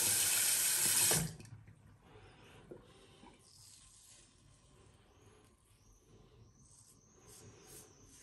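Tap water gushes loudly for about a second while a Tatara Muramasa adjustable safety razor is rinsed, then cuts off, leaving faint room noise and small clinks.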